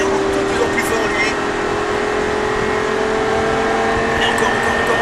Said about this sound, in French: on reprend les gaz. Laisse-toi monter légèrement en accélérant de plus en plus fort